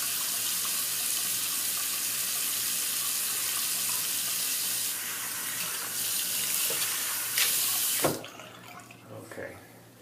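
A bathroom tap runs in a steady, close hiss while water wets a face for shaving, then shuts off after about eight seconds, leaving light dripping and handling sounds.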